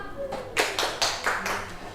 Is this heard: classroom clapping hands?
yes